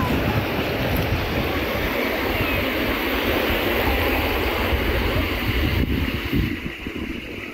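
Sea waves at a beach make a steady, dense roar of surf that fills the whole stretch, with no voices over it.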